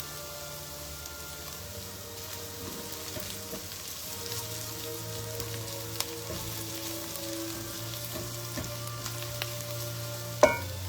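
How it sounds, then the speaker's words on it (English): Garlic and minced ginger fry in a wok with a steady, soft sizzle and occasional stirring scrapes. The crackle stays close and even throughout, with no talk over it. "You're just gonna cook it out till the raw smell of the garlic disappears, right? I'm gonna add some minced ginger to this."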